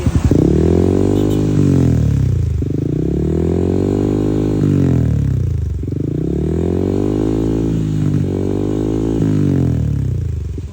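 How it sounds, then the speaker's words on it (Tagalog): Yamaha Sniper 155 motorcycle fitted with an adjustable power pipe exhaust set fully open, revving at low RPM: loud, close throaty blips rise and fall in a steady cycle about every two to three seconds over a constant idle, with no talking. "Paparinig ko sa inyo mga boss kung gaano ka-pogi tumunog. Try muna natin mga boss sa low RPM."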